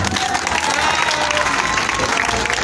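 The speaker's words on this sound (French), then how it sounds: "On applaudit, on applaudit, on applaudit." An outdoor crowd at a Mother's Day celebration and trophy final applauds in a brief, loud burst, with voices and some cheering mixed into the clapping.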